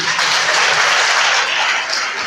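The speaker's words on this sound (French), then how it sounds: "Est-ce qu'on peut applaudir pour Blé?" A comedy show audience gives a brief, loud, dense burst of applause for a performer. The clapping is close and steady, with no speech.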